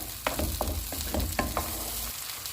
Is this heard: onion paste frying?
yes